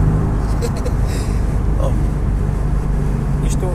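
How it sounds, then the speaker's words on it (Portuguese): Low, steady engine drone from inside a Ford Sierra fitted with a Jaguar 3.0 V6, rumbling continuously with a faint rise in revs, while someone talks over it. "Isto, eu acho que é dos poucos motores V6 que atinge rotação e binário com a facilidade que um 4 cilindros o faz."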